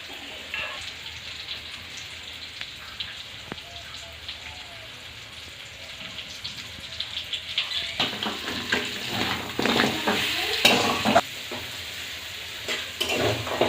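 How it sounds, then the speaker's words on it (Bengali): Crab legs from big Sundarbans crabs are sautéed with spices in a pan. A quiet sizzle builds into louder bursts of stirring and crackling toward the end, and faint talk is heard. "মশলার সঙ্গে ভালোভাবে কাঁকড়ার ঠ্যাং কষানো হয়ে গিয়েছে।"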